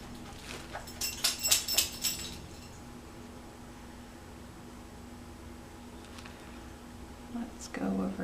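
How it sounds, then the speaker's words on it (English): A pet dog scratches in the background of an acrylic ring-pour painting session. A quick run of soft scraping strokes comes near the start, then a quiet room with faint hum. "You probably hear my doggy scratching in the background"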